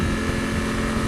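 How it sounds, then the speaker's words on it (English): A Honda Africa Twin 1000 manual motorcycle idling with a steady low engine drone and buzzy harmonic hum, loud and close, with wind rush and no clear throttle rise over the short stretch. "you can just give the throttle a little blip, and you know, it sounds much more nicer than the automatic"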